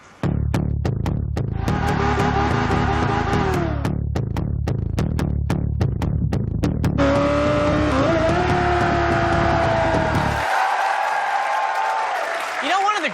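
Race cars from a Top Gear USA three-lap shootout roar loudly and continuously, engines revving and shifting through gears with rising and falling pitch, ending in a sustained high engine scream.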